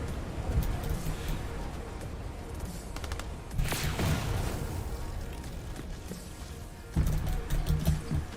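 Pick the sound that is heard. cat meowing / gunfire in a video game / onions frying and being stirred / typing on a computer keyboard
gunfire in a video game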